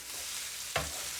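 Chicken browning in oil in a pan gives a soft, steady sizzle, with one brief louder burst of crackle near the end, close by and without talk.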